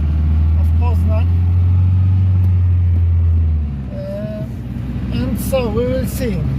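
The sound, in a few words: Mercedes 200D W12 car driving in city traffic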